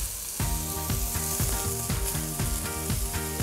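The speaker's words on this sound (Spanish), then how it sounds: "Vamos a dejarla ahí que se vaya rehogando hasta que esté transparente." Chopped pearl onion sizzles steadily in a little neutral olive oil in a pan, with a loud, close crackle and repeated scraping stirs.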